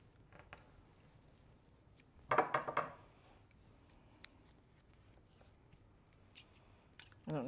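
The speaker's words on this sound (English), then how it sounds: "these are the biggest scissors to make the tiniest thing ever out of paper" Large scissors make a short cluster of crisp snips while cutting a tiny paper feather, one quick burst in an otherwise quiet room with faint handling noises.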